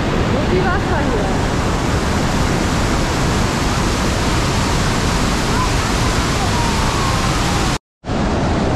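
The Rhine Falls roar as a loud, dense, unbroken rush of heavy water, broken only by a brief dropout near the end, with voices faintly buried in the din.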